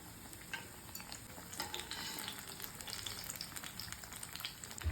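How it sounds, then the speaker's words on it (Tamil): Banana fritters made with wheat flour batter frying in a pan of oil, a soft continuous crackling sizzle with faint scrapes of a utensil, fairly quiet and without talk. "இப்போ பழத்தை பொரிச்சு எடுத்துக்கலாம்."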